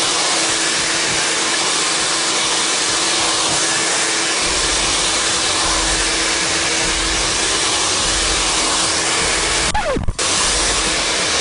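A handheld hair dryer blows steadily and loudly throughout while wavy hair is dried straight with a brush, with a brief knock or clunk near the end.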